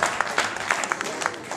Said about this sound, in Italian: con di nuovo un grandissimo applauso